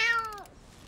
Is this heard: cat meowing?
yes